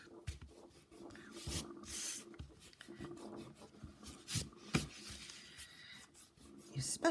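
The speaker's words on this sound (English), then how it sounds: "what you want to do is erase all these pencil lines." An eraser rubs out pencil lines on paper in quick, scratchy back-and-forth strokes, close and fairly quiet, with short pauses between bursts.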